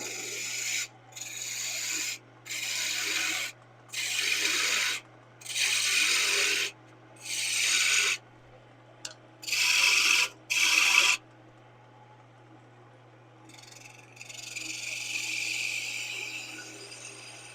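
A bowl gouge cuts wood on a spinning lathe in about eight rhythmic rasping passes, each a loud, gritty scraping burst separated by short pauses, over a low motor hum and followed by a softer, longer cut.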